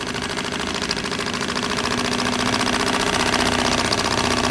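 A sewing machine stitches a boat's aft curtain for a Carver with solar-fixed thread, running in a steady, rapid mechanical chatter that holds close and loud throughout and builds slightly toward the end.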